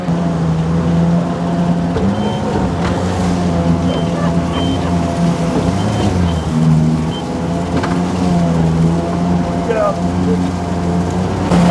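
A SHERP amphibious all-terrain vehicle grinds over a tree, its engine droning steadily and loudly throughout while people talk over it.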